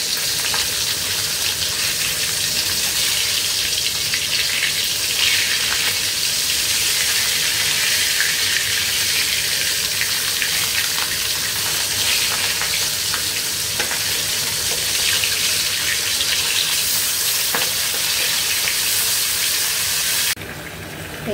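Pabda fish curry with peas and tomato cooking in a pan gives a steady, close sizzle and bubbling that runs unbroken for about twenty seconds, with no talking.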